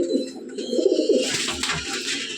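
A Teddy pigeon coos in a home loft, its low throaty coos rolling on steadily and close, with a hissy rustling rising behind them in the second half.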